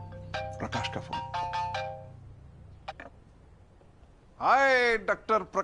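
A phone ringtone for an incoming call plays as a bright, repeating melodic chime, several rapid notes in quick bursts, then pauses before a voice speaks.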